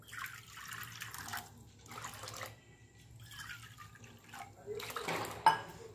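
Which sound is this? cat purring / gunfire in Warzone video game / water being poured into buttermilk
water being poured into buttermilk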